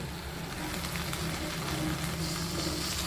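Fried cauliflower and potatoes added to hot masala in a pan for a Bengali koi fish curry, a continuous close sizzle and hiss with faint stirring, steady throughout.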